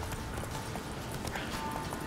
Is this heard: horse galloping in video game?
yes